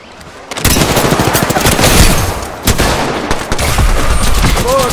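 Pistol gunfire in the video game Apex Legends: loud, rapid shots in dense bursts with explosive game effects layered over them, nearly continuous for several seconds.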